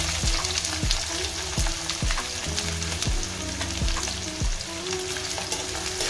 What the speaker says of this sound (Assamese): পিয়াজখিনি অলপমান ৰঙচুৱাকৈ মই ভাজি লওঁ